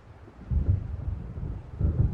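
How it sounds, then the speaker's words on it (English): Low thunder from an approaching storm in the Alan Wake video game rolls in two soft, rumbling swells, distant and muffled, with no voices. "It seems there's a storm coming."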